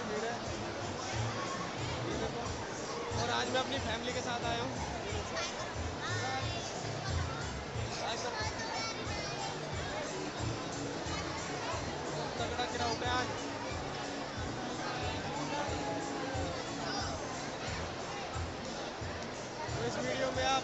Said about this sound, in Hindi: आप मेरे पीछे देख सकते हैं कितनी भीड़ है